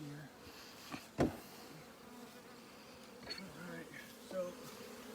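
Honey bees buzz steadily around an open hive during an inspection, a dense close drone with occasional louder passes near the microphone, and a brief spoken remark near the start.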